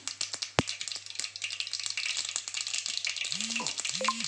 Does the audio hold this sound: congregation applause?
no